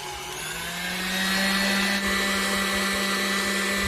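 Electric mixer running on high, churning cream into butter: a steady, loud motor whine and drone that holds evenly and close for the whole stretch.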